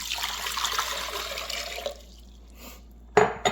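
Four cups of water poured into a container for a sugar syrup, a steady splashing pour that cuts off, then a brief clatter at the end.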